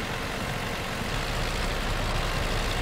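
An old Soviet tractor engine in Farming Simulator 2015 runs as a constant, dense, rough rumble, loud and unbroken throughout.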